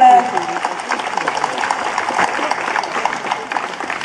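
Audience applause at a Polish folk singing groups festival gala in Potawa, a dense steady patter of many hands clapping, close and loud, with a brief voice at the start.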